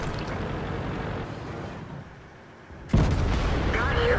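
A single heavy cannon shot from a T110E4 tier 10 tank in World of Tanks, a sudden loud boom after a quiet dip, ringing out over rumbling engine and battle noise.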